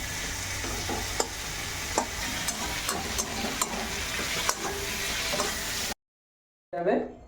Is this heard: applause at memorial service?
no